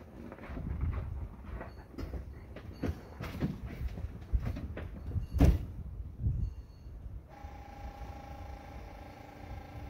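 A 2005 Ford F-250 with the 6.0 diesel cold-starts at minus six degrees: uneven clattering rumbles and knocks, then the sound settles into a steady, even drone near the end.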